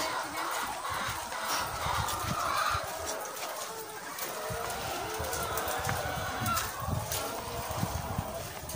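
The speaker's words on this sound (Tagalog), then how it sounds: "Yung mga manok." Egg-laying chickens in small cages cluck and squawk across an outdoor farm scene, a steady flock clamor with occasional sharper calls over a rough, noisy background.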